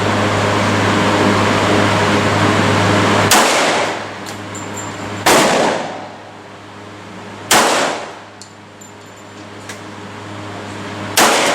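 Three sharp pistol shots from a Colt 1911 railgun ring out at a steady, unhurried pace, each a loud close crack with a decaying tail over a low steady hum.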